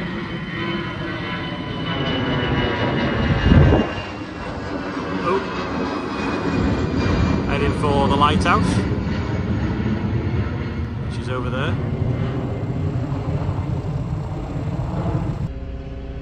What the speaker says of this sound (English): Easy jet there, just took off behind the trees.